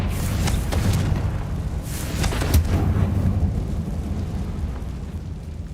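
Rumbling spell explosions from Bombarda and Confringo in the video game Hogwarts Legacy, a sustained loud low boom and roar with several sharper blasts layered through it, and no talking.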